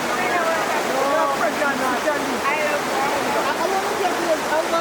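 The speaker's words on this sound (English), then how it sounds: "River." A river rushes in a continuous, loud wash of flowing water, with voices talking over it throughout.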